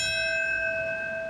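A memorial bell tolls for the 9/11 anniversary, marking the moment the first plane struck the World Trade Center's north tower; one sustained, ringing strike decays slowly with bright overtones, alone and fairly loud.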